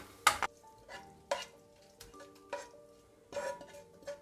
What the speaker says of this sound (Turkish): Ocağın altını kapattıktan sonra 1, 2 çay kaşığı kırmızı toz biber ve şöyle bir karıştırın.